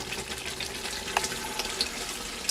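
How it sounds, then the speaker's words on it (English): Water pours steadily into a pot of thick, creamy lamb curry sauce, a continuous splashing wash with a few small clinks, no voices. "To which we add our lovely water."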